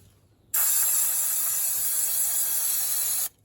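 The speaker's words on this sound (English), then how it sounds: "So I'm going to give everything a good clean with brake cleaner now" Brake cleaner sprays onto Ford Fiesta Mk6 drum brakes in one loud, continuous hiss of about three seconds that starts and stops abruptly, close and alone.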